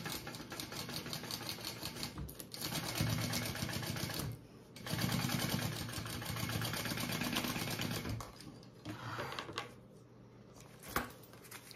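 A sewing machine runs in long steady bursts, stitching a fabric piece for a Be Hip Medium bag, with brief pauses near 2, 4.5 and 8–10 seconds; close and fairly loud, no talking.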